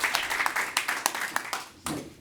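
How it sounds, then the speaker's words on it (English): Audience applause at a business conference welcoming two speakers on a panel about SMEs and startups, a short burst of scattered clapping from a moderate crowd that swells briefly and fades. "So please welcome with a very warm applause Simon Michel and Andreas Schneider here on the topic of SMEs and startups."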